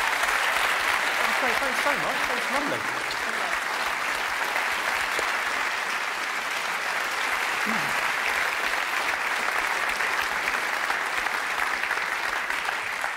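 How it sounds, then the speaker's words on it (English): A comedy club crowd at a stand-up show gives sustained, loud applause that holds steady throughout, while a performer briefly speaks thanks over the clapping. "Give her a big round of applause."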